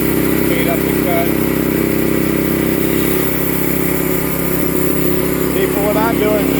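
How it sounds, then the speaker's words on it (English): Sawmill powered by a small 18 horsepower motor cutting a log, a loud constant engine drone with steady mechanical whine throughout, a voice speaking over it. "I run a little 18 horsepower motor on here because I don't need any bigger for what I'm doing."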